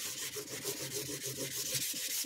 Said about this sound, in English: just to finish off that edge, I'm just going to use a bit of wet dry sandpaper here